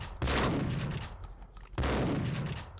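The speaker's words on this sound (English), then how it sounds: "Sawed-off shotgun. Ammo. Let's try shooting something." Two loud, close sawed-off shotgun blasts from the game Max Payne, each a sharp boom trailing into a long ringing decay, spaced about a second and a half apart.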